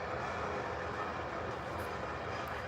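A train slowly backs up near a swing bridge, producing a steady low rumble and faint rail rattle heard from a distance, with no talking.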